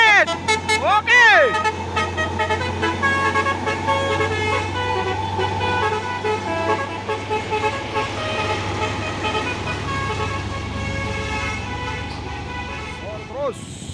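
Loud musical telolet truck horn toots sound at the start and again at the end, over a steady engine rumble with people talking.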